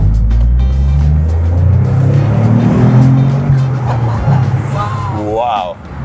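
Engine of a 2025 Toyota GR Corolla with a 6-speed manual, heard from inside as it accelerates, a loud low rumble rising in pitch over several seconds before easing off, with a voice speaking over it.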